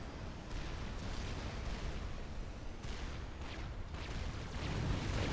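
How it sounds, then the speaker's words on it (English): A steady rumble of distant explosions rolls on as redundant T1 factories are detonated in Supreme Commander: Forged Alliance Forever, soft muffled blasts overlapping in a continuous low roar that swells slightly toward the end. "you see some of the explosions going off as redundant T1 factories are detonated in preparation to be recycled"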